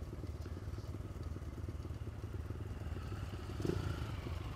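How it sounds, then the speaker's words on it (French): A Triumph three-cylinder motorcycle passes behind, its engine a fairly faint, steady mid-pitched drone that swells slightly near the end. "il y a une belle moto derrière"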